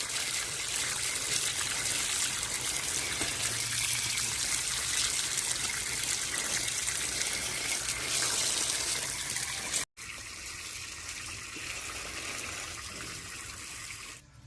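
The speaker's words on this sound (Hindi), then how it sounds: "तो पहले शलजम को देखिए खूब बढ़िया सा हम धो ले रहे हैं" Turnips washed under running water, a steady gushing trickle of tap water throughout, briefly cut and then continuing slightly softer, no talking.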